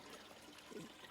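Watering zucchini and broccoli in a garden box, a brief soft splash and trickle of water hitting plants and soil, fairly quiet.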